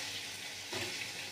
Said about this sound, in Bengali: আমি টমেটো, কাঁচা লঙ্কা, কালো জিরে আর তেজপাতাটা একটু তেলে ফোড়ন দিয়ে দিলাম